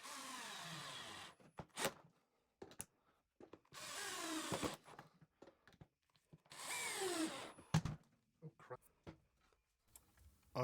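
Screws are driven into wood with a power drill while glue bonds workbench parts, several short whirring bursts separated by quiet gaps, close and fairly loud.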